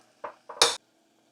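A pressure cooker lid is set on a pot of biryani without being locked, giving three quick metallic clanks, the last the loudest, in an otherwise quiet kitchen.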